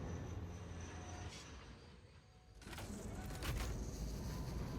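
A train in the video game Satisfactory rolls past with a steady rumbling and rushing hum that dips briefly and then swells louder again, faint and alone.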